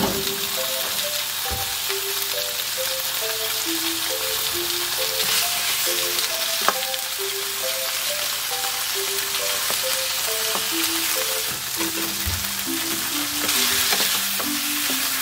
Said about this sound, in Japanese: 大さじ1ぐらいの油を入れて、まず最初に豆腐からですね、豆腐から炒めていきます。